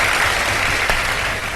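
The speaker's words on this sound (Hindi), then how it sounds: "बहुत सारी तालियां बजा दीजिए जी।" Brief burst of steady studio audience applause during a televised iftar quiz show, loud and continuous for about a second and a half.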